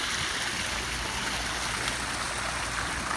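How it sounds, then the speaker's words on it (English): Steady broadband rush of a nearby waterfall, a constant loud hiss of falling water with no breaks and no voices, heard outdoors beside a 2017 Jaguar F-Pace 35t. "Sorry for the background noise. It's just waterfall here."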